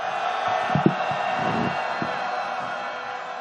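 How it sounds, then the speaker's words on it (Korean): A crowd at a candlelight protest march in Yeouido shouts and cheers together in a sustained roar, with a few louder whoops rising out of the broad, steady din at a moderate distance. "함성 시작!"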